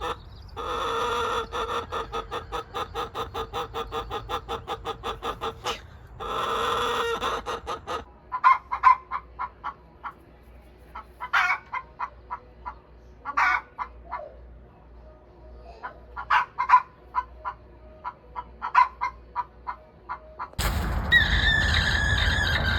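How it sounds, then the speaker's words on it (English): Backyard chickens in their first year of keeping make a varied chorus of loud squeals, clucks and squawks, with bursts of rooster crowing at the start and end and sharp, irregular calls in between. "here is a sampling of some various chicken noises"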